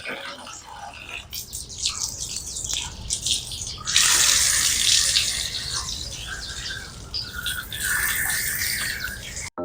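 Water splashing and running as garden plants are watered in the morning at home, a steady gushing stream with louder bursts, while birds squawk and chirp in the background and no one speaks.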